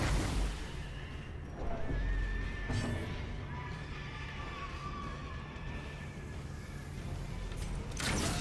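Pig enemies squeal loudly in the Darkest Dungeon video game, several shrill cries rising over a continuous bed of game noise across the whole stretch.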